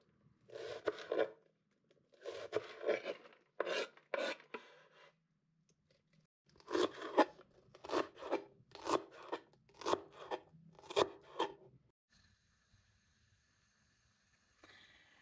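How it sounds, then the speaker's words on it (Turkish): A knife finely chops leeks that have been quartered lengthwise, giving bursts of rapid crisp cutting strokes in quick groups with brief pauses between them, close and moderately loud, with no talking. "Pırasaları ince ince kıyıyoruz."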